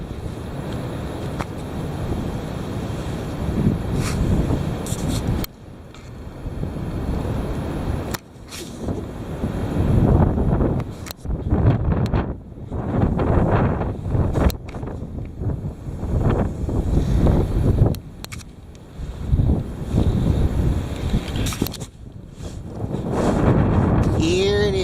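Heavy wind roars and gusts continuously against the microphone, loud and close, surging and dipping in strength throughout.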